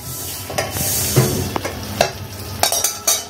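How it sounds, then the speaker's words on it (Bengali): Rice flour being dry-fried in a pan and stirred, with soft scraping strokes and faint sizzle, irregular spoon taps and scrapes close by, no voices. "চালের গুঁড়ো, সিদ্ধ চালের গুঁড়ো, এটাকে একটু ভেজে নিতে হবে"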